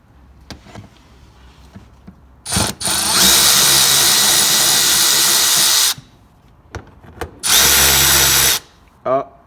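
A power drill backs out two screws inside the fender of a BMW E46 M3: two loud whirring bursts, the first longer, separated by a pause with small clicks and handling noises.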